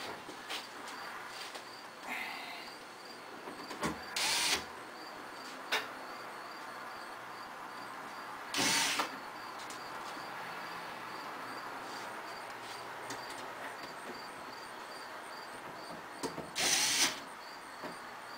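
Screws being tightened with a power drill while mounting a Dixie Narco DN 3561 24oz bottle rack system: three short, whirring drill bursts separated by quiet pauses with faint handling noises.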